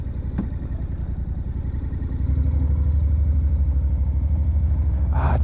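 A 2014 Honda CTX 700 DCT motorcycle engine runs steadily with a low, pulsing rumble that grows louder as it pulls away, ending with a brief rise in pitch; no talking.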